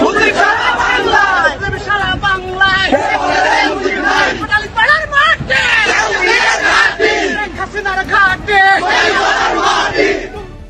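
A large crowd of Awami League supporters at a political rally in Bangladesh chants slogans about Sheikh Hasina, loud, close and continuous, with rhythmic massed voices rising and falling in repeated phrases.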